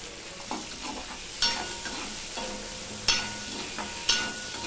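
Pointed gourd (potol) fries in a pan with salt and turmeric, giving a steady close sizzle broken by several sharp scraping stirs of a spatula, with no talking.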